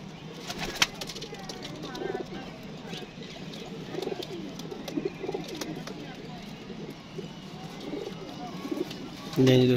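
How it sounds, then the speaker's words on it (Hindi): Pigeons standing together in a park coo softly and repeatedly at close range, with occasional rustles and a brief flutter near the end. "ये देखें जी दोस्तों सारे कबूतर खड़े हुए हैं।"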